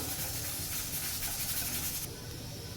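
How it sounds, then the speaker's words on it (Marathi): Grated coconut dry-roasting in a pan gives a steady, close hiss and soft sizzle that runs evenly, then drops slightly quieter near the end. "आता खोबरं आपण लालसर भाजून घेऊ"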